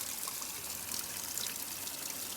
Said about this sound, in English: This is the water fountain.